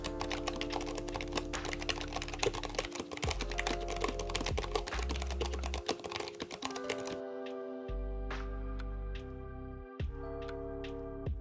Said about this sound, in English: Let's start with the K3 version 2.